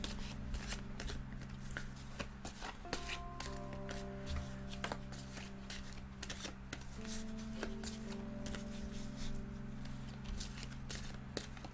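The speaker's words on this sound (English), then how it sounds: "I just want to give it a good shuffle." Tarot cards being shuffled by hand, a soft continuous riffling and rustling at low level under a faint steady background tone, with scattered light taps.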